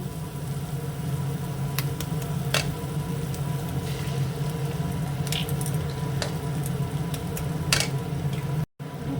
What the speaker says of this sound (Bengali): ডিমটা একটু মশলাটার সঙ্গে এই যে মিশিয়ে মিশিয়ে দিই